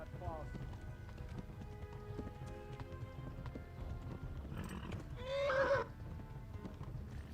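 Horse riding in the video game Kingdom Come: Deliverance, with steady hoofbeats and a whinny near the end, set against game ambience and background music.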